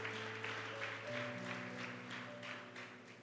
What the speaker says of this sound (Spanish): Usted puede aplaudir a Jesús esta mañana